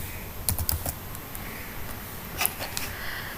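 Rapid bursts of keystrokes on a computer keyboard while writing Flutter code, close and clear, with short pauses between flurries of typing.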